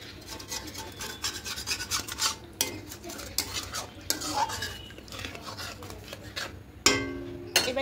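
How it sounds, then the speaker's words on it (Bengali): Spices stuck to the sides of a wok are scraped down with a spatula while duck egg curry cooks, close rasping metal scrapes in uneven repeated strokes with a few sharper knocks, no talk. "এবার কড়াইয়ের গায়ে যে লেগে আছে মশলাগুলো সব এভাবে নিয়ে নেব"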